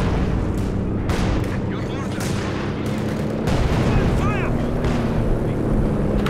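Artillery barrage in the World War II strategy game Company of Heroes 2: several heavy booming impacts and gunfire crackle across the battlefield, with voices talking over the ongoing explosions.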